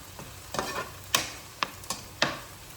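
Garlic and onions cooking in a pan, with a low steady background and several sharp clinks and scrapes from stirring that come close together and stand clearly above it. No one talks.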